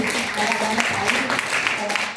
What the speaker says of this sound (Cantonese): 俾啲掌聲我呢兩個好勁嘅團隊